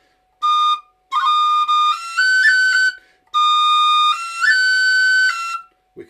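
A tin whistle plays the reel "The Glass of Beer" as a series of clear, bright sustained notes in short phrases with brief gaps between them. It is solo and close, with no voices.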